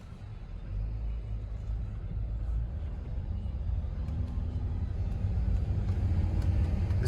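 A car driving slowly through a residential neighborhood near Rio Grande Avenue, a steady low interior road rumble that swells gradually louder, with no talk.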